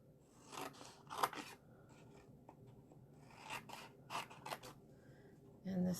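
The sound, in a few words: cutting paper box flap to the score line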